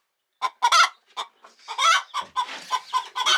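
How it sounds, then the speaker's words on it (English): Several chickens clucking and squawking in short bursts close by, around a clutch of hatching eggs with a possible young rooster among them, fairly loud and irregular with no talking. "Look at this heathen chicken."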